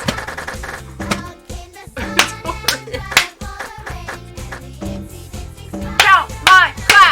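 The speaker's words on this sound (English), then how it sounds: "Count my claps." Hand claps struck into a Donkey Konga drum controller, landing as sharp, irregular claps over the game's upbeat music, with a loud flurry of claps near the end.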